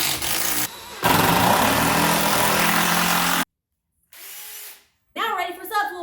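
A power drill drives 6-inch screws into a ledge board under a subfloor in an old house, loud and close, with a long whirring burst, a pause, a shorter burst and then rougher mechanical noise.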